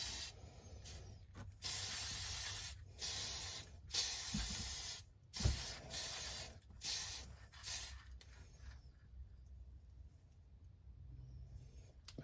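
An aerosol spray can puts metallic gold paint onto a model engine in a series of sharp hissing bursts of varying length, separated by short pauses, close and loud, with a longer gap near the end.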